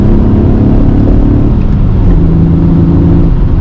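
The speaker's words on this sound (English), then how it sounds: "I love the way this engine sounds." The V6 engine of a 1996 Alfa Romeo 155 idles and revs gently in a steady, raspy drone, close and loud the whole time.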